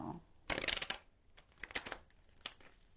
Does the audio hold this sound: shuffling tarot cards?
yes